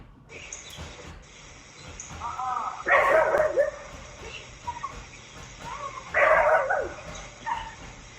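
A neighbor's dog in a yard barks in two loud, close bursts about three seconds apart, with softer yips and whimpers in between over faint outdoor background noise.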